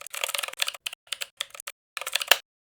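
Python code typed on a computer keyboard, quick bursts of close key clicks separated by short pauses, ending on a firmer keystroke, with no talk.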